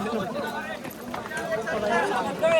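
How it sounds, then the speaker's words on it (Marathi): A crowd of people making its way down from Raigad fort fills the air with overlapping chatter and footsteps, a close, steady murmur of many voices at moderate loudness. "गर्दी बघा किती आहे खाली उतरायला."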